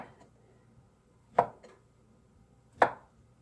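A knife cuts through a block of tempeh on a board, giving two crisp, clear chops about 1.4 seconds apart, each followed by a faint softer tap, in an otherwise quiet kitchen.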